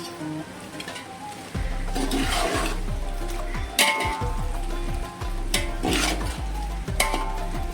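Mutton dum biryani bubbling in a covered pot over a medium flame, thick blurps and pops repeating steadily and close, with scraping clinks from the pot between bursts.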